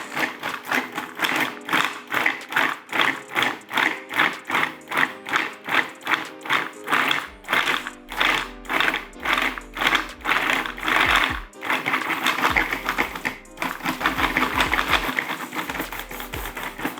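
Food processor pulsing biscuit dough for chocolate chip biscuits toward a coarse sand texture, a rapid rhythmic chopping rattle of many short bursts, then a steadier continuous whirr near the end, loud and close.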